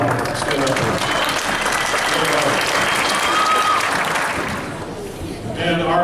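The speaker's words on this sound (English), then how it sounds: "Round of applause for Holly Thomas." A concert audience applauds a member of a school winter jazz band, steady dense clapping from a full room that swells and holds for several seconds before fading slightly near the end, with some voices mixed in.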